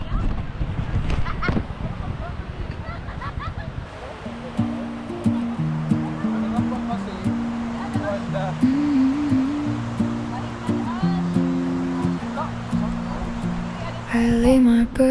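Steady sea surf and wave wash fill the background at a beach campsite while people talk at first, then a sung melody plays over the water noise.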